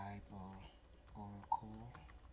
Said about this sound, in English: you open your browser and you want to type